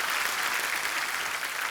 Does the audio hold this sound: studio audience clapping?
yes